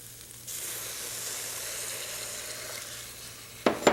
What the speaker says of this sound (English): Let's add our milk.